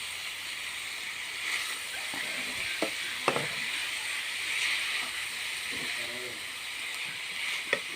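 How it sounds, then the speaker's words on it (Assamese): Banana flower and potatoes stirred in a hot pan, a steady broadband sizzle with scattered scraping clicks from the stirring utensil, close and continuous. "তাৰপিছত এনেকৈ লৰাই থাকিম অলপ দেৰি, সকলোখিনি মিহলি হ'বৰ কাৰণে"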